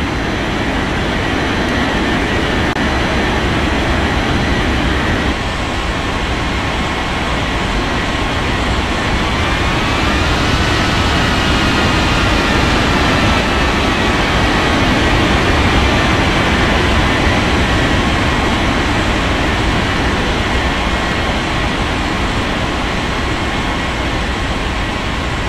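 A Germania passenger jet taking off from runway 18 at Hamburg airport, heard as a loud, continuous roar with a faint rising whine as the engines spool up, steady for the whole stretch.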